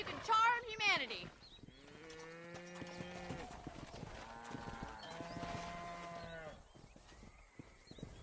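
Cattle low and moo repeatedly during a cow-herding ride in Red Dead Redemption, with a horse's clip-clop and a shouting voice at the start, several drawn-out bovine calls overlapping in the middle distance.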